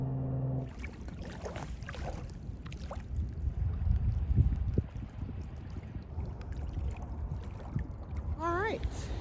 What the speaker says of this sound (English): Someone's making some waves today.